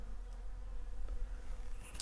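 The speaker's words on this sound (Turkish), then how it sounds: "Yalnız her tarafta arı var." Soft, steady bee buzzing hums throughout at low level, a continuous drone with no voices present, outdoors at a clifftop in Antalya.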